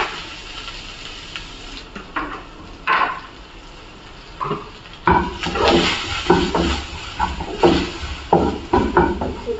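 Mushrooms frying with cumin seeds in a pan, soft sizzling under clinks and scrapes of a spatula against the pan, growing busier and louder toward the end.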